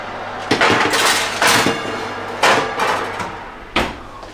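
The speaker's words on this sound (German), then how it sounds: "Wir tun die jetzt mal in den Ofen rein." Cheeseburger buns going into a home oven for baking, a metal tray clanking and knocking several times in sharp irregular bursts, close and loud with no talking.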